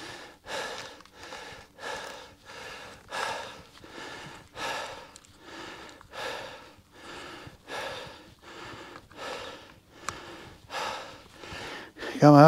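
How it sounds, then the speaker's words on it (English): Heavy, laboured breathing while climbing a steep hill on the way to a hilltop fortress, a rhythmic series of close, loud gasping breaths roughly every second, heard alone. "breathing hard."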